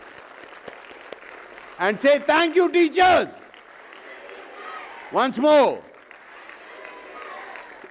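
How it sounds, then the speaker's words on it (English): Children clapping for their teachers during a live talk, brief bursts of crowd clapping and cheering come between someone speaking over a hall microphone. "give them a good round of applause, please. Louder applause!"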